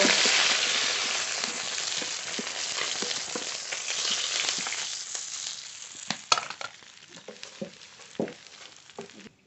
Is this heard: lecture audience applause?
no